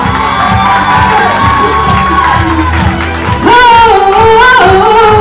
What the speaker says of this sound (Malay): Beri tepukan semangat.